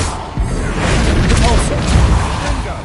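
Spell blasts cast in the Hogwarts Legacy video game: a dense run of booming impacts and crashing bursts, loud and continuous, layered with shouted incantations and game voices over the whole stretch.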